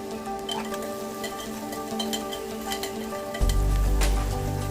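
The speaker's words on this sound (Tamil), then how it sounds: "இது நல்லா கோல்டன் ப்ரௌன் கலராக வர்ற வரைக்கும் வதக்கி விட்டுக்கலாம்." Onions sizzling and frying in a pan until golden brown, a steady crackling hiss with occasional sharper pops, growing louder toward the end.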